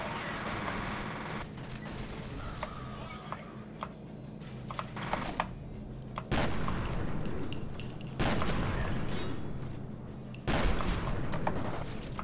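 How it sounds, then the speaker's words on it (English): Gunfire and explosions from the video game F.E.A.R. sound in loud, close bursts, with sudden heavy blasts and dense firing interrupting a steady background of game noise. "Here, have a grenade, boys."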